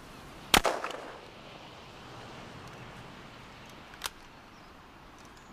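A single sharp rifle shot cracks out near the start and echoes briefly, followed by a much fainter distant pop a few seconds later against quiet outdoor ambience.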